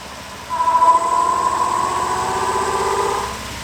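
A wood lathe spins a bowl blank at 1000 RPM, starting with a wobbling hum that settles into a steady, close motor whine with a faint vibrating drone beneath, then eases down at the end.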